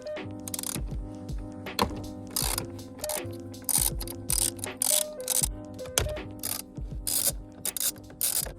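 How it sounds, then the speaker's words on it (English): A ratchet fitted with a Torx bit works the airbag bolts loose on a Subaru WRX steering wheel. Quick bursts of rapid ratcheting clicks repeat in short strokes close to the listener, with no voices. "Okay, so first we have to remove the airbag. Gonna be that Torx bit there, and another one right here."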